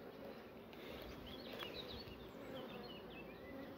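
Honey bees buzz around an open hive during a spring inspection, a soft, continuous swarm drone with scattered individual bees flitting close by, fairly faint and without voices.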